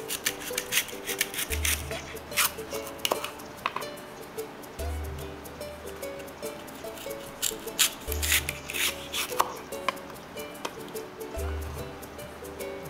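A knife cuts winter vegetables on a cutting board for miso soup, with light scraping and tapping strokes over a low, periodic background hum and scattered clicks.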